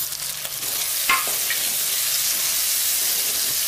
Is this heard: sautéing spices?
yes